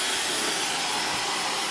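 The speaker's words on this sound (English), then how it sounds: "We will be testing the Dyson Hairdryer, Supersonic Hairdryer," A Dyson Supersonic hairdryer runs at full power, a loud, steady high-pitched whoosh of rushing air that holds constant throughout, with no voices.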